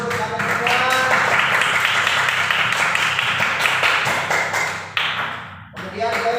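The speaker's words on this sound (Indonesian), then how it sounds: "saya berikan tepuk tangan dulu untuk kalian semua" Classroom of students in an Indonesian lesson clapping together, a dense steady patter lasting several seconds, fairly loud and close, with some voices mixed in.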